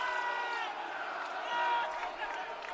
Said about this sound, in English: you can hear the fired up crowd at the Johnson Center here tonight